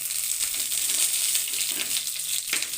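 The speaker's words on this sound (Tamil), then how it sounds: "இதனுடனே கடலைப்பருப்பும் போட்டுறேன். பொரியட்டும்." Chana dal frying in hot oil for javarisi upma, a steady dense sizzle with a few stirring scrapes, close and continuous.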